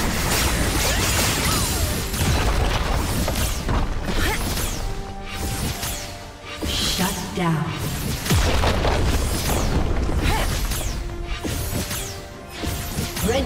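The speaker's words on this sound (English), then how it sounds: "Red team's inhibitor has been destroyed." A League of Legends inhibitor is destroyed amid a dense, loud barrage of booming crashes and impacts from the game, continuous across the whole stretch, with a voice present in the mix.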